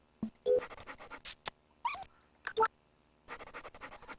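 Cartoon puppy in Microsoft Bob, a mid-1990s home software program, panting and scratching in short separate bursts of breathy huffs and scrapes, near and fairly clear with no talk.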